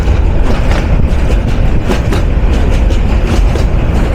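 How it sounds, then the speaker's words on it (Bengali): Mohua Commuter train rolling into Rajendrapur railway station on the Dhaka to Mohanganj line, heard from the locomotive: a loud, steady rumble and rattle of wheels and carriages that continues without a break. "আমাদের ট্রেন প্রবেশ করছে রাজেন্দ্রপুর রেলওয়ে স্টেশনে।"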